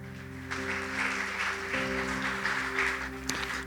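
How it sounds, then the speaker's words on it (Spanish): Congregation applause in a church following a sermon, a steady wash of many hands clapping over sustained organ or keyboard chords that continue underneath throughout. "Dale un fuerte aplauso al Señor."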